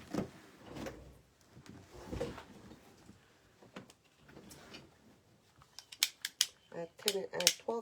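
Scissors snipping strips of material for a Mother's Day wreath craft, a series of quiet sharp cuts that grow more frequent and louder toward the end, with some handling noise and a person talking in between.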